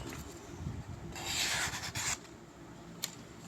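Damascus steel knife blade slicing through material, a close rasping, rubbing swipe rising in the middle and fading, followed by a small sharp tick, no voice.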